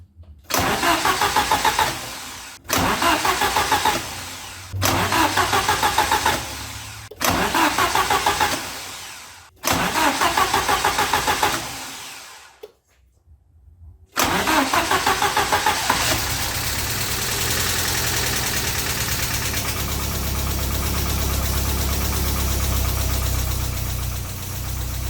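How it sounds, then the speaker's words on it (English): A 1980s-style Alfa Romeo 33 IE 8V boxer engine, freshly repaired head gasket, cranks in five loud bursts of starter whirring separated by pauses, then catches and settles into a steady, even idle up close. "The engine started without any problem"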